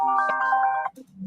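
A phone ringtone plays a bright melodic tune of sustained tonal notes at a live hibachi cooking broadcast, then breaks off abruptly, followed by a short low murmur.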